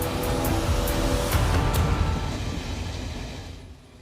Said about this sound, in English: The train is so long that it takes 15 minutes to drive by.